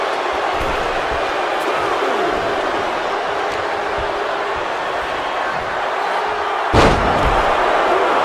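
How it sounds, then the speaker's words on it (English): Wrestling impacts and slams from WWE 2K23 during an iron man match, with a steady crowd roar throughout and a single loud thud near the end of the clip. "MJF sends Roman Reigns back down to the floor with a hard clothesline shot."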